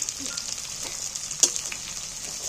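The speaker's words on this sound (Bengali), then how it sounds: "এবার টমেটোটাকে ভালো করে তেলের মধ্যে ভেজে নেব" Chopped tomato fries in hot oil in a pan, a soft steady sizzle with one sharper spattering crackle partway through, heard alone and fairly quiet.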